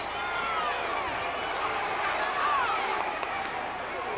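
A 1960s wrestling crowd cheers and roars, a dense, steady wash of voices filling the arena, with a few sharp thuds near the end.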